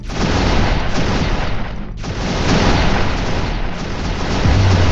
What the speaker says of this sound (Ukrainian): Якщо відігравалося багато звуків пострілу одночасно, то аудіосистема перенавантажувалася і видавала дуже неприємні звуки.